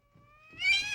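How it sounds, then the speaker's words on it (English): Cats caterwauling in a short burst: a thin rising yowl swells into a louder, harsher wail, close and alone. "For goodness sake, Lucy, you better do something about those cats."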